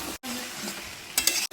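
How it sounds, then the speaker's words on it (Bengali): Mutton and potatoes being stir-fried for kosha, a continuous close sizzle and stirring that breaks off briefly, then sharper metallic scrapes of the spatula against the pan near the end. "এবার দিয়ে দিচ্ছি আলু। এবার আমি এটাকে ভালো করে কষিয়ে নিব।"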